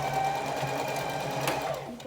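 A sewing machine chain-stitches a fabric mask, running in one continuous close whirring hum with a steady mechanical rattle and no pauses, no voices.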